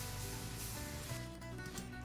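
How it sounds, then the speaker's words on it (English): A cheap gardening pressure sprayer with a variable pattern nozzle hisses steadily as it mists carpet reviver dye, a close, continuous spray with no talking. "which is why I use that cheap gardening pressure spray"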